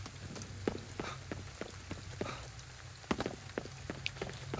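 Video game rain in GhostWire: Tokyo patters with scattered sharp drops and taps over a low steady hum, fairly faint and continuous.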